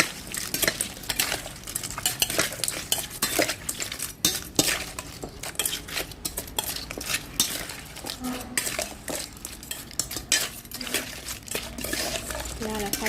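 Pickled crab salad with sour nam dok mai mango being tossed and mixed in a bowl, with repeated clinks and scrapes of a utensil against the dish in an uneven rhythm, close and fairly loud throughout.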